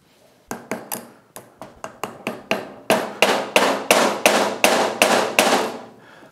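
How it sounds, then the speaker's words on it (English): An impact socket hammers an input shaft seal into a Mercury 40 HP outboard, giving about a dozen sharp metallic strikes. They start spaced and quicken into a steady, louder run of ringing blows, close and with no talk. "So what I'm going to do is actually use an impact socket to drive it in, just bottoming it out."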